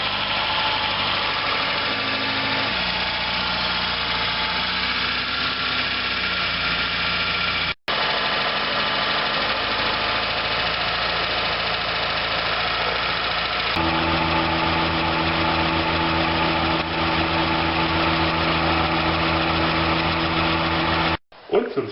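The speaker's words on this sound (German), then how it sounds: "der Motor läuft" VW Golf engine idling during an ignition timing check, a steady, close mechanical hum with a persistent low tone that shifts pitch partway through, briefly cut by two short dropouts.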